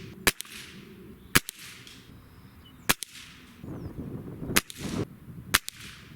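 Gamo Swarm Magnum .22 caliber break-barrel air rifle firing Jumbo Diablo pellets: several sharp, loud cracking shots at irregular intervals with quieter rustling and handling noise between them.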